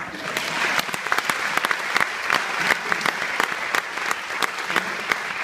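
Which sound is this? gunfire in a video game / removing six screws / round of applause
round of applause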